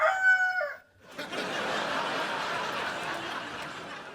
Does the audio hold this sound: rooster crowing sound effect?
yes